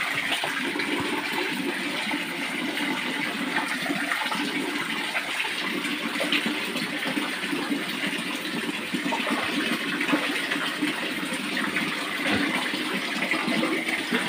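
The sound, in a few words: water running from a hose into a pet pen pool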